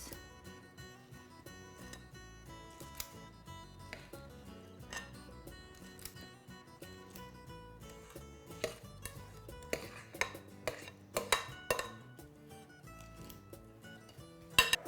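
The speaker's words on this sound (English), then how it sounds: "I'm just going to scoop evenly all of the batter into the cups" Muffin batter for keto apple cider donut muffins scooped into lined cups, soft clinks and taps of a scoop or spoon against a bowl and pan, quiet and irregular, growing sharper toward the end.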